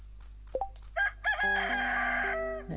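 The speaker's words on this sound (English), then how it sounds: "There you go, cock-a-doodle-doo." A rooster from the farming video game Stardew Valley crows one clear, loud cock-a-doodle-doo, preceded by a few short clucks and chirps, with no talking over it.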